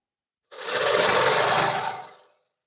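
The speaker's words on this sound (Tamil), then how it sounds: "1 இன்ச்சுக்கு மடித்து அப்படியே வந்து பார்த்தீங்கன்னா தையல் போட்டுருங்க" A sewing machine runs steadily for about two seconds, stitching a folded one-inch hem on a blouse. The whirring is loud and close, starts abruptly, holds an even pace, then winds down, with no talking.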